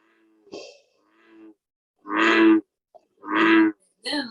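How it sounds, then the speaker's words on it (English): Bullfrog calling: deep, resonant droning croaks, two long loud jug-o-rum notes close by, preceded by softer lower grunts. "Then you'll start hearing the bullfrog."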